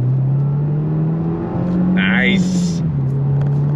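Engine of a 2024 Subaru WRX base with a six-speed manual pulling on throttle, a steady low drone that rises slightly in pitch, heard from inside the car with a brief spoken comment over it.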